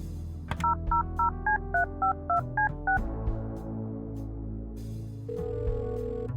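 Telephone keypad tones from the video game Kathy Rain 2, about a dozen short even beeps dialing a number in quick succession, then a line tone and game music, clear and alone.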